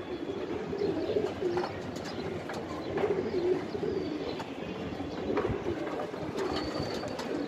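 Pakistani Teddy racing pigeons coo in soft, repeated throaty calls, several birds overlapping in a steady murmur close by, with a faint background rumble.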